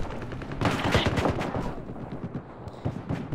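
Bursts of rapid gunfire crackle through a Battlefield 4 firefight on Xbox One, loud and dense at first with overlapping shots, then thinning into scattered, sparser rounds toward the end.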